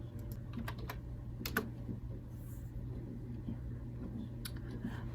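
Typing on a computer keyboard, with a few sparse, quiet keystrokes over a steady low room hum.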